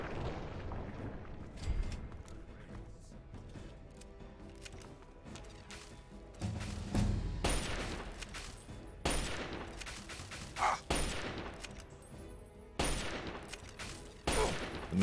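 Gunfire and explosions from Fallout 3 crash through the mix as repeated loud bursts and booming blasts, spread irregularly across the stretch with sustained rumbling between them.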